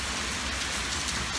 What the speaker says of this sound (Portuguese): tá chovendo pra caramba.